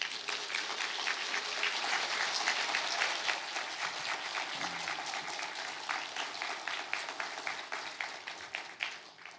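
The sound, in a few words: church audience applause welcoming a speaker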